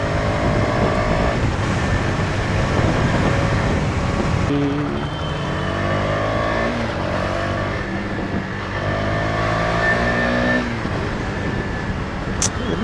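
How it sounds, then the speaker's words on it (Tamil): A motorcycle rides through dense Bengaluru traffic, its steady engine drone and road rumble continuous and close, with surrounding traffic noise and a voice talking over it. "இந்த மாதிரி டிராஃபிக்கில் பூந்து போயிட்டே இருக்கலாம்."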